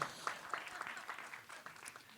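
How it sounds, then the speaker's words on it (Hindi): Faint applause from a crowd at a Bollywood trailer launch welcomes actress Shilpa Shetty, soft scattered clapping heard from a distance with a voice mixed in. "शिल्पा जी के लिए जोरदार तालियां हो जाएं"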